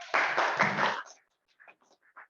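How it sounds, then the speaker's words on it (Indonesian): Applause for Hilma's correct quiz answer in an online class session: a dense burst of clapping lasting about a second, then a few faint, brief voices. "mari kita berikan tepuk tangan kepada Hilma"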